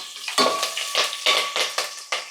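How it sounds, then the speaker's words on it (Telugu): Green chillies fry in a pan while being stirred, with a steady close sizzle broken by regular scraping strokes of a spoon against the pan, about one every half second, and no talking. "అవి ఫ్రై అవుతుంటే"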